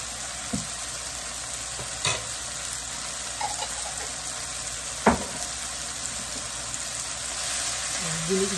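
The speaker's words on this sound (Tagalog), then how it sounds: "Igisa muna natin ang ating bagoong ng konti." Shrimp paste (bagoong) sautéing in a pan, a constant close sizzle and crackle of frying with occasional stirring knocks of a utensil against the pan, and speech heard faintly in the background.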